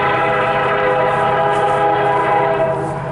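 A CN intermodal freight train passes close by while its horn blares in one sustained, loud chord over the rumble of the rolling cars.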